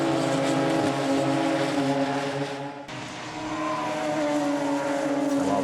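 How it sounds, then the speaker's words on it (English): Radical sports prototype race cars roar past on the Snetterton 300 circuit. The loud, continuous engine noise blends several cars, with high revs and a shift or brief lift midway, and there is no clear talking. "has now started to close onto the number 49 car of Kelvin Kingsley"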